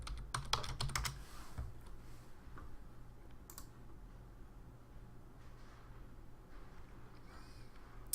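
Quick, fairly quiet clicks of typing on a computer keyboard, a cluster of keystrokes at the start followed by a few sparse taps, with no talking.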